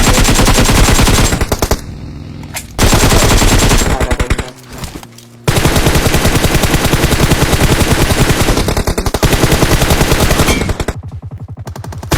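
Rapid automatic gunfire from PUBG Mobile gameplay, loud and close, in long sustained bursts broken by a few brief pauses.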